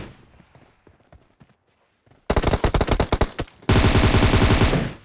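Rapid bursts of automatic gunfire in a PUBG Mobile solo match, a loud rattling volley followed by a denser sustained burst, after quieter scattered footstep-like clicks.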